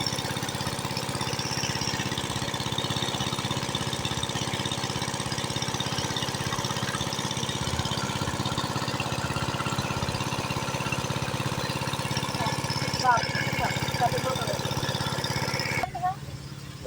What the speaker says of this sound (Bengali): এই হচ্ছে সেচের মেশিন।